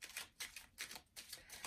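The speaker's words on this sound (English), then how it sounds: "They just want me to shuffle." A tarot card deck being shuffled in bursts, with four quick riffling rustles spaced evenly apart, close and fairly quiet, with no talking.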